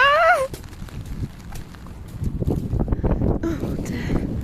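Strong gusts buffet the microphone on a windy day, a broad low rumble that swells and thickens in the second half, with a brief voice at the start and people talking faintly amid the blustering.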